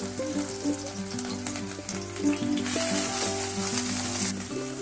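Onion and green chili frying in a little hot oil in a pan, a continuous loud sizzle that swells partway through, with faint background music and no speech.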